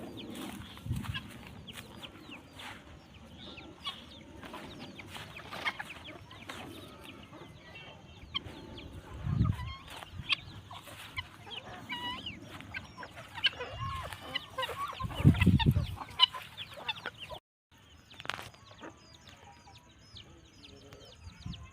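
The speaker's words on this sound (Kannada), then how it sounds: "ಒಳ್ಳೆ ಮರಿ ಇಳಿಸೋಕ್ಕೆ ಒಳ್ಳೆ ಹುಂಜ ಇದು" A rooster kept for breeding chicks clucks and mutters intermittently over about twenty seconds, close by, with soft rustling and background farmyard noise between the calls.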